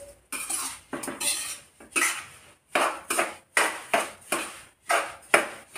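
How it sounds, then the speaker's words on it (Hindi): Sesame seeds roasting in ghee in a pan, heard as a run of rhythmic metallic scrapes and clinks from a stirring utensil, about one every half second, close and fairly loud with no talk. "तिल को हल्का सा कलर चेंज होने तक पका लेंगे, मतलब भून लेंगे थोड़ा सा।"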